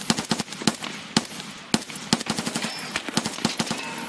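Rapid automatic gunfire from a video game shooter rattles in loud, dense bursts, with sharp individual shots stacking into continuous volleys throughout.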